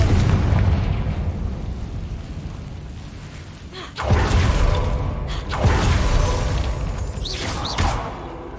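Confringo fire spell explosions in Hogwarts Legacy: a continuous rumbling roar punctuated by several sharp blasts, with crackling debris and brief high whistles.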